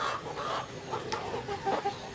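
Chickens on a farm that also raises tilapia cluck softly and intermittently, a few faint, short calls over a steady background.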